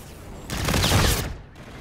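A short burst of rapid gunfire from the video game Call of Duty: Infinite Warfare lasts under a second, a dense roar of overlapping shots that drops off abruptly, with no talk.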